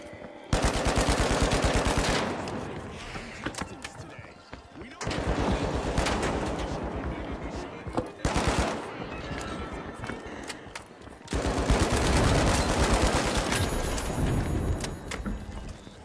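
Long bursts of rapid turret gunfire in a shooter video game hammer loudly and continuously in three main stretches with brief gaps between them, up close and dominating the mix.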